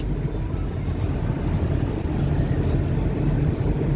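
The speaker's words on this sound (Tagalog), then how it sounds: "Engine brake." A vehicle engine drones low and steady under engine braking on a downhill descent, a continuous rumble heard from inside with no talk.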